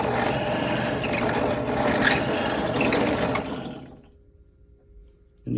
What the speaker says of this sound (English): I just use my drill press.